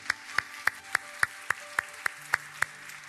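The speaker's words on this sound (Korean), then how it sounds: "우리 다시 한번 하나님 앞에 영광과 감사의 박수 올려드리고 하겠습니다." Congregation at a Korean church worship service clapping together in a steady, even rhythm, about ten crisp unison claps, moderately quiet and with no talking.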